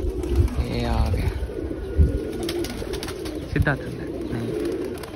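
Pigeons, a golden one among them, fly in and settle nearby with soft flapping and low cooing amid a busy outdoor murmur, while someone talks throughout.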